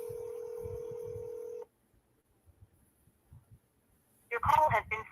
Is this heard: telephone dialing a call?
yes